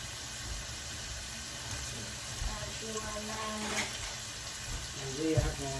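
Tap water runs steadily into a kitchen sink as hands are rinsed, a constant hiss with faint clinks and a voice speaking briefly over it.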